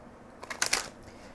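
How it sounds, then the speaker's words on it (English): Oracle cards being shuffled by hand, a short burst of papery riffling and flicking that peaks briefly in the middle of an otherwise quiet moment. "I'm just trying to shuffle these cards because I forgot."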